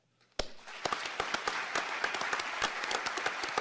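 Applause breaks out abruptly at a tribute event for American hostages held in Iran, honoring the Marine Corps security guards, with scattered sharp claps building into steady audience clapping that carries through to the end.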